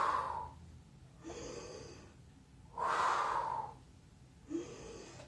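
Deep, audible breaths during a thigh and glute workout, three slow inhales and exhales spread over a few seconds, close and fairly quiet with no talking.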